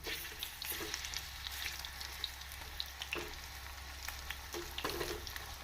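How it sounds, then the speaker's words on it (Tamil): Onion bajji fritters frying in hot oil give a steady, fairly quiet sizzle with scattered soft pops and crackles throughout, no voices present. "நாம் எண்ணெய் நன்றாக காயவும் உதிரி உதிரியாக வெங்காய பஜ்ஜியை போடலாம்."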